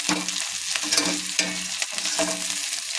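Green chillies and chopped garlic fry in a pan, making a close, constant sizzle broken by repeated scraping and stirring strokes. No one speaks.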